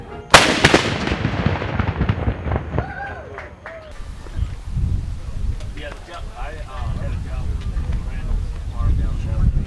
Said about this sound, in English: Gun is ready to fire, and then when the command's given, he'll fire.